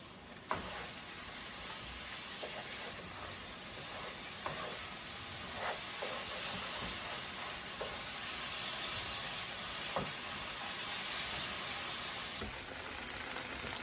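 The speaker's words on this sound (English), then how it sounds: "Keep it in high flame and saute it." Sauce and tofu sauté in a pan over high flame, giving a continuous close sizzle and hiss with occasional scraping clicks from stirring.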